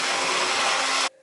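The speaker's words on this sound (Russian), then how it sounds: "Все хорошо еще раз пробиваю блендером." A blender purees banana with vanilla sugar and sugar in a loud, steady whirring roar that cuts off abruptly near the end, leaving a faint hum.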